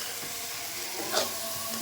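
Small fish coated in salt and ginger sizzle steadily in oil in a wok, a continuous hiss with a brief louder burst of spitting near the middle, close by and with no talk.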